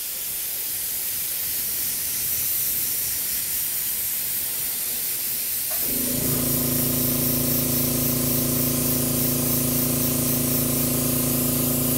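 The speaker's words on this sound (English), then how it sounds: "I'm just going to start misting this color in here." Airbrush hisses steadily as it mists light brown paint onto a model horse. A compressor kicks in halfway with a droning hum beneath the loud, continuous spray.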